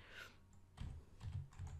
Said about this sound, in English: I'm gonna just start typing it in